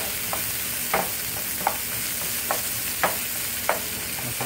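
Poblano chili strips browning in hot oil, a loud, constant sizzle with a steady stirring rhythm of soft utensil scrapes roughly every half second to second.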